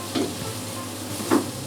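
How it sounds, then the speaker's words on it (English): Onion frying over medium-high heat in a pan for Hungarian mushroom stew, a soft steady sizzle with two brief scraping stirs, close and fairly quiet. "frying the onion"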